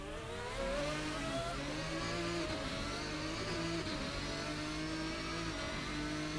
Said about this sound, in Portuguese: O barulho do carro tá espetacular.